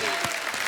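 A comedy show audience gives a burst of applause, dense and steady throughout.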